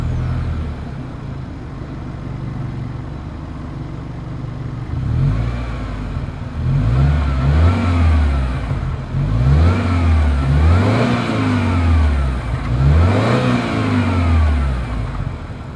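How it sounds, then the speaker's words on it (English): A 2021 Subaru Ascent SUV with dual exhaust and chrome tips idles steadily, then revs hard four or five times in rising and falling surges, close and loud. "As always, here is that exhaust clip."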